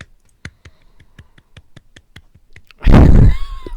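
Sparse, scattered claps from a few people welcoming a podcast guest, thin and evenly spaced, followed by a burst of louder crowd noise and voices.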